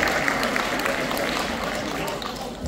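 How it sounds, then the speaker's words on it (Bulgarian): Audience applause at a 2023 event in Bansko: dense, steady clapping fills the short stretch at fairly constant loudness, with a faint murmur of crowd voices mixed in. "вашите аплодисменти"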